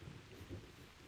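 Rain and low rolling thunder in theHunter: Primal, a steady faint wash of rainfall with a soft rumble swelling near the middle, heard alone without speech.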